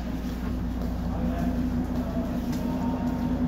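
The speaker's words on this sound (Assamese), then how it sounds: "এইটো হৈছে আপোনাৰ দাৰ্জিলিঙৰ টয় ট্ৰেইন ষ্টেচন" At the Darjeeling toy train station, a steady low rumble with a constant hum carries on, with no speech over it, loud and continuous as if a train or engine idles nearby.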